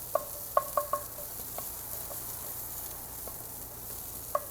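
Shallots fry in a pan with a little salmon fat and chili oil, a faint steady sizzle broken by a few sharp clicks and taps from stirring, close by with no voices.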